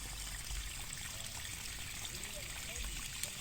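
Water pours and trickles steadily into a rice field flooded the day after sowing, a continuous close rushing stream, with a voice speaking faintly over it.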